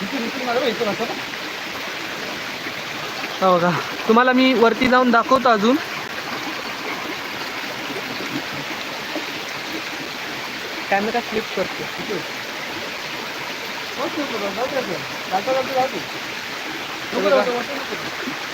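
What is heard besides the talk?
water flowing in a stream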